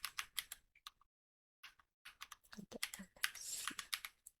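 A command being typed on a computer keyboard, bursts of quick, close key clicks with a brief pause partway through, quiet and with no talk.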